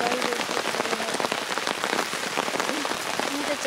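Steady rain falling on a solo campsite deep in the mountains, a dense, even patter of drops striking surfaces close by, with no voices.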